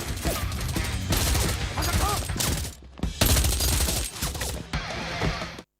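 Heavy gunfire in rapid, sustained bursts during a shootout between robbers and police, loud and close, broken by a brief pause before the shooting resumes.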